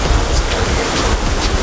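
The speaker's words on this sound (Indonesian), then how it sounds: "Ya inilah air terjun 33 yang saya capai ini ya" Loud, broad rushing wash of a waterfall heard up close, steady turbulent roar with wind buffeting on the microphone throughout.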